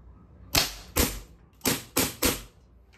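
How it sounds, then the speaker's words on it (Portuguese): A CO2 pistol fires 4.5 mm steel BBs in five sharp, snappy shots, two then three in quick succession, close and fairly loud with short hissing tails, over a quiet outdoor background. "Você vê pelo barulho da arma"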